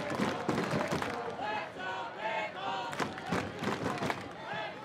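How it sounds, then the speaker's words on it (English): Crowd at a Pickles All-Stars vs. Portland Gherkins baseball game swells into loud, sustained shouting and cheering with the bases loaded, rising and falling in waves throughout. "Crowd getting loud here with the bases loaded."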